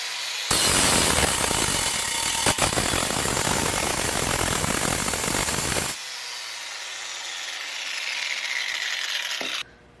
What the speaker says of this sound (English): Dust shield, so we're going to angle grind that off